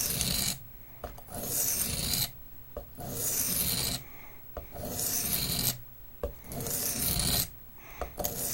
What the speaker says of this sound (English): I'm going to try to bring a burr up on one side, and that is going to be from constant honing, or sharpening rather, on one side at a time.